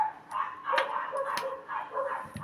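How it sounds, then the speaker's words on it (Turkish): A small toy dog barks several times in short bursts at a moderate distance, yips mixed in, with no one talking. "Ya köpeğin sesini de duyuyoruz yazdıkça"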